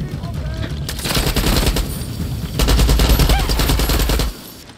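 Far Cry firefight: near-constant automatic gunfire with dense rapid shots, growing heavier and deeper toward the end before cutting off abruptly.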